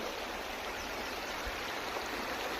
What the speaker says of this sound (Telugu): ఇది జంపన్న వాగు అంటారు కదా.